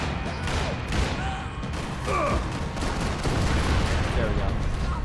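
Gunfire and bursts of shooting in the video game Max Payne 3 crackle through a dense, busy mix alongside speech, with repeated sharp reports layered over continuous game noise.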